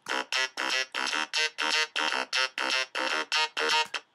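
A bright Waldorf Blofeld synthesizer plays a rhythmic MIDI sequence of short, evenly spaced buzzy notes, about a dozen stabs in steady tempo, alone and clear.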